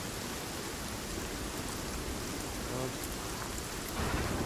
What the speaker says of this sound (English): Wow, that rain is torrential, dude.